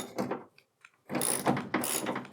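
A threaded rivet nut is tightened with a hand tool during a Ram Promaster camper van build, producing close mechanical ratcheting bursts separated by a short pause, with no talking.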